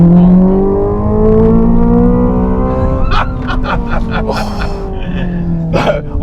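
A Hyundai Ioniq 5 N electric car accelerating with its N Active Sound engine simulation on, a synthetic engine note rising in pitch through several shift steps from inside the cabin, with gasps and brief voices over it.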